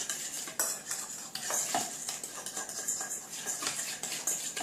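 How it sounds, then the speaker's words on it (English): A spoon stirs brownie batter in a mug, making quick repeated scraping clinks of metal on ceramic, close and fairly quiet, with no talking. "And we'll stir that up."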